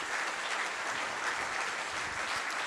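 A church congregation applauds in a steady, dense wash of clapping throughout, loud and continuous with no pauses or talking.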